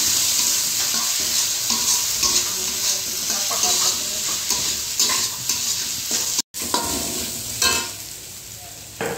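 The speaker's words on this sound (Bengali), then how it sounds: "1 চামচ আদা আর 1 চামচ রসুন দেওয়া হয়েছে, দিয়ে এটাকে একটু ভেজে নিতে।" Onion with ginger and garlic frying in oil for chicken roll filling, a continuous dense sizzle with frequent scraping stirs, close up and fairly loud, briefly cut silent near the end, no talking.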